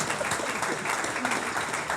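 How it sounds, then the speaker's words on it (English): Applause from an audience at a property investment talk, a continuous wash of many hands clapping at moderate level, without a break. "Can we have a massive round of applause for Mr. Ranjan Bhattacharya?"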